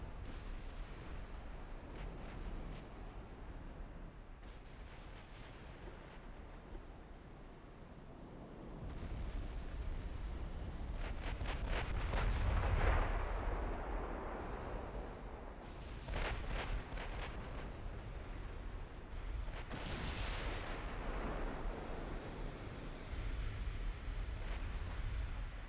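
Heavy naval gunfire in the warship game Ultimate Admiral: Dreadnoughts, with rolling booming salvos and several sharp crackling volleys over a low rumbling battle ambience, loud and continuous.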